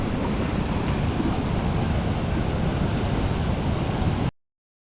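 Rushing waterfall and river water at Shnongpdeng in Meghalaya, a loud, dense, steady roar close by with wind buffeting the microphone, cutting off abruptly near the end.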